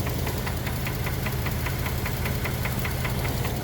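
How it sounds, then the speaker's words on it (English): An engine with a hole in the oil pan and no oil idles with a rapid, steady metallic knock, evenly spaced taps over a constant loud rumble, close by. "if you plan to use Lucas to save your engine after it starts knocking"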